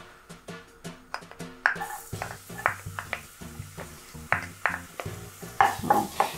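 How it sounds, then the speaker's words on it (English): Garlic going into hot olive oil in a pan, a soft sizzle beneath repeated clinks and scrapes of a utensil stirring against cookware, close and moderately quiet, with no talking. "Pag mainit na, ilagay ang garlic."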